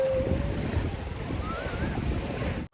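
A boat engine hums under strong wind buffeting the microphone and splashing water during a boat ride to Malapascua Island, ending in a sudden cut.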